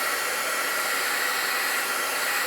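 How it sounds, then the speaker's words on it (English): A heat gun blowing on wet watercolor paint on a banana leaf painting gives a constant loud, even hiss of rushing air with no change and no voices. "let's just give it a little shot with my heat gun here"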